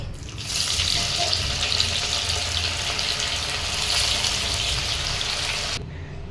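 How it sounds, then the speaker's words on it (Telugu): Bitter gourd pieces fry in oil until golden with a loud, dense, steady hiss of bubbling oil that starts abruptly and cuts off near the end. "ఇవి మంచిగా గోల్డెన్ కలర్ వచ్చేంత వరకు ఫ్రై చేసుకోవాలి"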